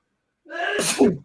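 A single sharp sneeze, close and loud, with a quick inhale before the burst.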